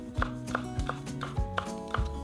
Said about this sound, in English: Next, finely chop the carrots,